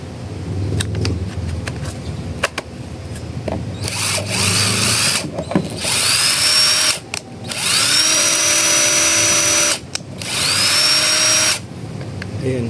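A Workzone cordless drill fitted with a Makita battery runs in several loud, close bursts, its motor whine ramping up and holding before cutting off, with brief gaps between runs and some talk at the start.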